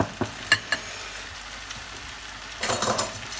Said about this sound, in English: Just a little bit more of a stir.